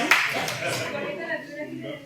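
A brief burst of audience clapping at a church talk, a soft patter of many hands that thins out over two seconds with voices mixed in.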